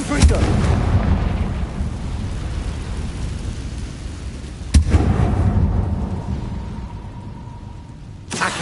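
A Confringo blasting spell in Hogwarts Legacy sets off heavy, rumbling booms, with one loud sharp blast near the middle and another near the end over a sustained low roar of fire.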